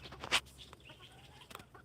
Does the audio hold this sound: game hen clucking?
yes